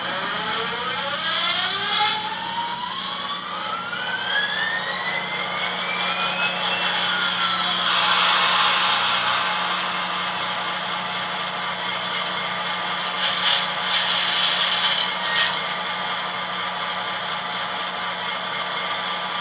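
A Broadway Limited SD40-2 model diesel locomotive's startup sound: a rising whine climbs in pitch, then a steady mechanical rumble settles in and idles, continuous and fairly close.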